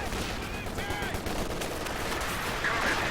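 Off-map artillery barrage in the video game Company of Heroes 2, a steady rumbling roar of distant shell impacts and explosions lasting throughout, with faint tonal effects over it.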